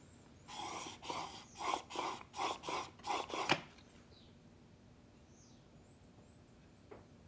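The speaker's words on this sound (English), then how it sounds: "I'm going to try 4 strokes here with my fingers evenly spaced in the center and see if I can get a burr to raise" A No. 8 jointer plane blade stroked on a sharpening stone, six or seven rhythmic rasping strokes close up in a quiet room, then silence apart from a faint tap.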